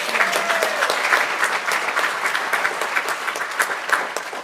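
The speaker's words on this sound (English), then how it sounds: "so please give them an applause." A town council meeting audience gives loud, sustained applause from many people clapping together, a dense continuous sound that eases slightly toward the end.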